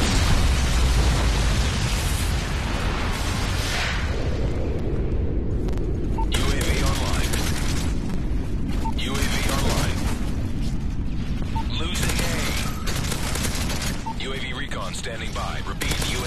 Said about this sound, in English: Airstrike. Aircraft is 5 seconds out.